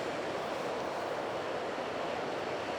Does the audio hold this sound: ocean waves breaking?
yes